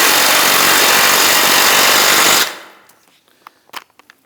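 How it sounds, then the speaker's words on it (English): A power tool tightening the ball joint nut on a 2001-2009 Volvo S60 front control arm, a loud continuous buzzing rattle for about two seconds that stops abruptly, followed by a few light metallic clicks. "Go ahead and tighten down our ball joint nut."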